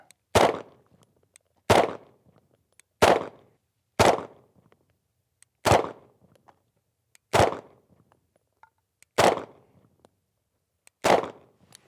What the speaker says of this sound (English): I'm gonna get a clean draw, off safety, prepping my trigger, breaking that shot, breaking that shot.